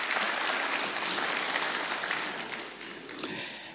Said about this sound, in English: Tupatie hawa majenzi a round of applause.